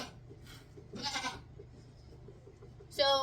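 A goat on a homestead bleats in short wavering calls, one near the start and a louder one at the end, with quiet rustling in between.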